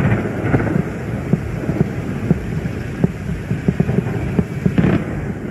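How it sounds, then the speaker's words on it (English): Distant booms and sharp cracks of gunfire and anti-aircraft fire echo irregularly over Baghdad above a steady low rumble, with scattered bursts spread across the whole stretch. "Let's listen a little bit to the sound of gunfire, anti-aircraft fire over the skies in Baghdad."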